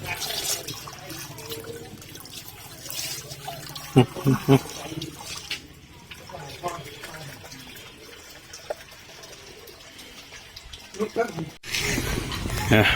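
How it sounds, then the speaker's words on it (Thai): Water runs and splashes into a small fish pond built from an old tire with stones inside, a steady watery pour with a few sharper splashes, while someone talks over it. "เอาก็ปล่อยน้ำไปนะครับผม"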